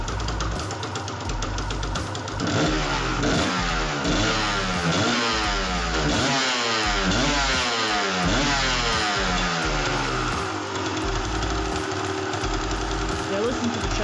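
Suzuki TS200R dirt bike engine with a carburetor and float-level running issue, idling with a rough, pulsing rhythm and rising and falling in short revs, loud and close throughout.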